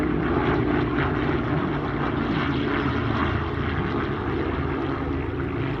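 Propeller aircraft, a Dassault Flamant and a DC-3, flying at an airshow in Meaux, with a loud continuous droning engine roar that holds steady throughout and has no talk over it.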